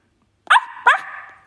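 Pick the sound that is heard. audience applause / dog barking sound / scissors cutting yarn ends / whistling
dog barking sound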